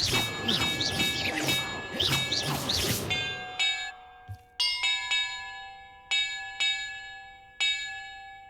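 Bells in a Hogwarts Legacy puzzle ring out in a series of clear, resonant strikes, some bunched together and others spaced apart, each tone ringing and decaying over a quiet background after an opening burst of busier musical sound.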